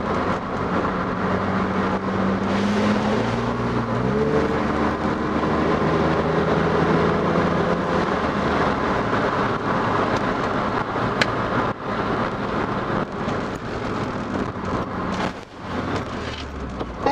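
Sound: BMW E30 engine driving on mountain road

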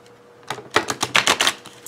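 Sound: shuffling tarot cards

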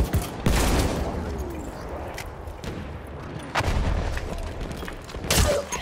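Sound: artillery fire in Battlefield 1, from a video game

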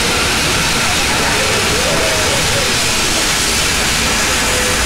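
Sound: oldest steam locomotive in Spain departing

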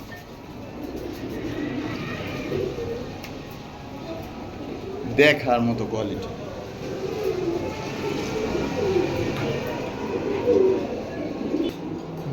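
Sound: silver pigeons cooing

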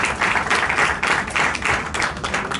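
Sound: audience applause at award ceremony

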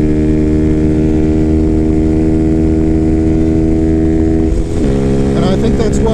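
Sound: 2024 Freedom Fighter 200 EFI motorcycle riding in 6th gear

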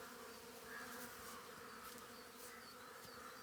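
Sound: honeybees working at a Japanese beehive

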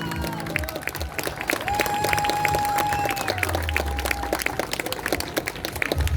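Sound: audience applause for young Suzuki school performers

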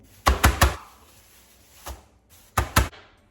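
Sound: meat mallet pounding beef liver

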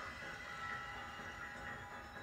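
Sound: train on tracks in Lego Movie video game

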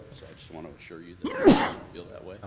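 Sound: sneeze

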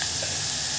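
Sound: green chillies and onions sautéing in a pan

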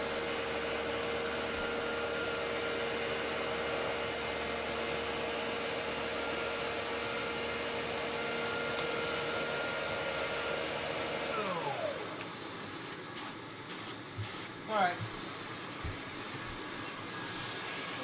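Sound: 1960 Electrolux Automatic Model G vacuum cleaner running

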